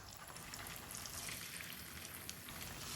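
Masala coating pre-cooked boti meat frying in a pan, a steady close sizzle with light stirring throughout, no voices.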